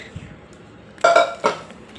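A few metallic clanks and clinks as a pan is handled, two or three sharp knocks close by against a quiet background.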